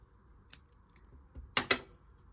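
Two quick scissor snips cut through crochet yarn, crisp and close, with a few faint clicks before them in a quiet room.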